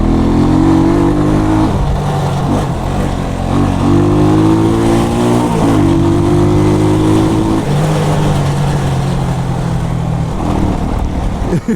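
A motorcycle with a muffler rides on a Jamaican road, its loud engine droning close and continuously with small rises and dips in revs.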